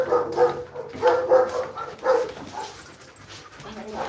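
Dogs on a farm give short barks and yips in several quick bursts, fairly close, with a continuous background murmur and noise.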